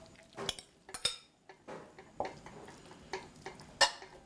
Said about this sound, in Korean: 냄비를 좀 달군 다음에 고기를 먼저 조금 볶아주세요.